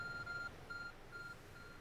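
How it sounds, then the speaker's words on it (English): A phone gives a faint, repeated electronic beep, four short tones spaced evenly, faint beneath steady background hiss during Pokemon Legends Arceus gameplay. "Your phone is beeping."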